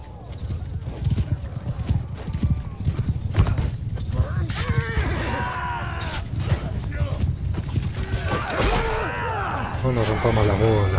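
A galloping horse in the medieval battle game Mount and Blade 2 Bannerlord, hoofbeats pounding steadily and close through the noise of battle, with whinnies, metallic clashes and shouts, and someone talking over it.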